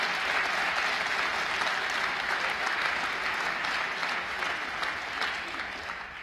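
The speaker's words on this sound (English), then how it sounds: "Give them a round of applause for the job they did." A large audience at the State of the State address in the Bronx breaks into sustained, dense applause that stays steady and loud throughout, with only a slight easing at the end.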